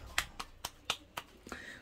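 Wet arepa de queso dough clapped between palms to flatten it, six sharp slaps in a steady rhythm, close and fairly quiet with no talking.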